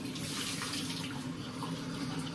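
Tap water runs steadily into a bathroom sink for washing a face, a close, even rushing hiss with no talking.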